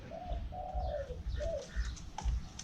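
A caged decoy bird at a hunting camp gives several clear, mid-pitched cooing calls in a steady series, fairly close, over low rumbling background noise and no talk.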